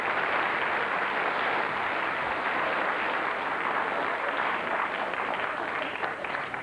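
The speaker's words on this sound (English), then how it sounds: "But I didn't get any more applause than that" Studio audience applause on a 1975 television variety show, a steady, dense wash of clapping that stays loud and even from start to finish with no voices over it.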